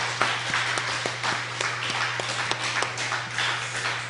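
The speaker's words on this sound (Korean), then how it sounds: "시원하게 박수 한번 쳐 올리십시오." A church congregation claps together during a Sunday worship service, a steady mass of hands heard through a hall with a low constant hum underneath, continuing evenly throughout.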